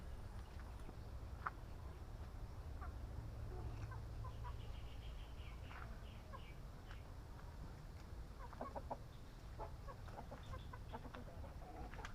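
Heritage chickens clucking on a small backyard farm, scattered soft clucks and calls over a steady outdoor rumble, fairly faint and without talk.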